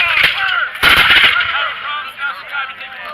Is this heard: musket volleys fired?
yes